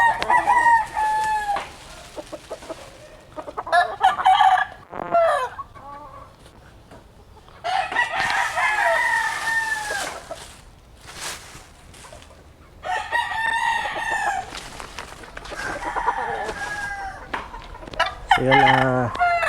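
Chickens cluck and crow near a gray broodcock and a white claret hen on a farm, with repeated bursts of loud, close calls separated by brief quieter gaps and a final harsh, rising crow.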